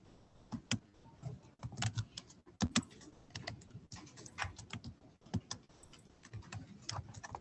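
Typing on a computer keyboard comes through as close, irregular clusters of clicks and taps with brief pauses, some keystrokes sharper and louder than others, with no talking.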